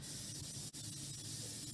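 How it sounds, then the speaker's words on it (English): Cooking spray hisses in one steady burst over a tray of baked chips topped with sugar, a continuous close spray with only a split-second break. "you're going to add 1 more layer of the cooking spray to be sure that it adheres"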